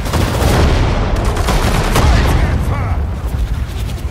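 Gunfire rattles through a World War II battle in the real-time strategy game Sudden Strike 4, final Allied mission Operation Plunder, with dense overlapping shots and rumbling blasts continuing loudly throughout, partly under speech.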